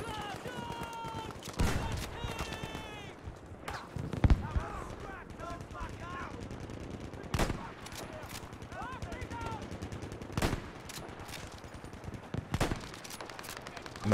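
Rapid automatic gunfire bursts and sharp single shots ring out in a Battlefield V North Africa grand operation battle, loud and repeated across the scene, with voices talking underneath the combat.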